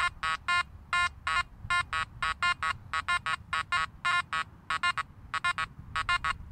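A Makro Gold Kruzer metal detector sounds repeated short, high-pitched beeping tones over a nail board, in irregular bursts and pairs over a faint background hiss.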